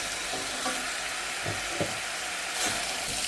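Pumpkin cubes being stirred into fried minced meat in a hot pan, a steady sizzle with occasional soft scrapes of a spoon, no talking.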